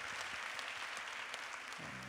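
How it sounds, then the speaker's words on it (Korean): Steady, dense applause from a church congregation fills the whole moment, continuous and fairly loud, with no voices over it. "우리 주님께 영광의 박수 올려드리겠습니다"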